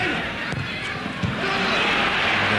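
A packed football stadium crowd in Paraguay at the 1999 Copa América match between Argentina and Colombia lets out a sustained, loud roar of reaction after a wasted attacking chance, with a commentator talking over it.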